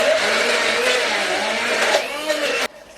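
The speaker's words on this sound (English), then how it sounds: "Okay, my blender is not too happy." A kitchen blender straining as it purees pizza sauce ingredients with added oil, a loud continuous motor whir with a shifting labored pitch that cuts off abruptly near the end.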